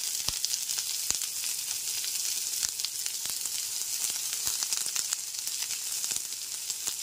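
A chopped medium onion sizzles and fries in a pan over a low gas flame for chirer pulao, a steady close hiss broken by sharp clicks of stirring, with no talk.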